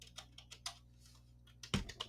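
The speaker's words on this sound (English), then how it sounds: "How does it make you feel that I'm typing on my keyboard?" Computer keyboard typing in a quiet room, soft scattered keystrokes at an irregular pace, close and faint, ending with one louder key press.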